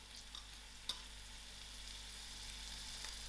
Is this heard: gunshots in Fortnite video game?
no